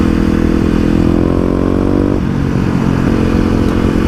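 A Kawasaki KLX250 motorcycle engine drones loudly and steadily while riding, its pitch dropping as the rider eases off midway, with wind and road noise throughout.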